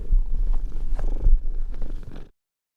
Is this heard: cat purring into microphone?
yes